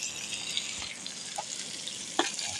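Steady sizzling of pilaf frying in a pan, with occasional pops and a faint scrape of stirring, close and continuous.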